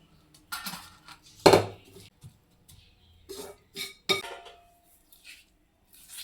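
Sesame chikki mixture is scraped onto an oiled plate, heard as scattered metallic clinks and knocks of a spoon and pan, one sharp loud strike among quieter taps, close with silent gaps between.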